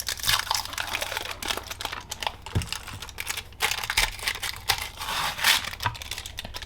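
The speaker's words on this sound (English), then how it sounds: "Get this Kapton tape off." Kapton tape crinkles and tears as it is peeled off a Rebel 6Ah lithium battery pack during a teardown, producing close, quiet, irregular crackling and ripping bursts with no talking.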